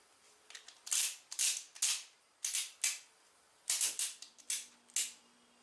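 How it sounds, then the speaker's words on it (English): A torque wrench set to 15 pounds clicking as carbide wear bar bolts are tightened on an Arctic Cat XF 9000 snowmobile: sharp ratcheting clicks in short groups of two or three, close and distinct, with no talk. "Take your torque wrench, we're going to set it to 15 pounds."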